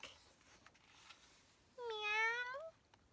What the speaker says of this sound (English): The meowing cat woke the child up, but it is still dark.